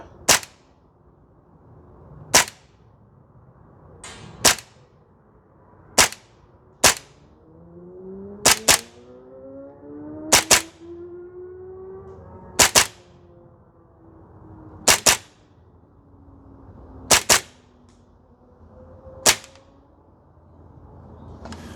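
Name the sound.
Tokyo Marui MP7A1 gas blowback airsoft gun shots hitting target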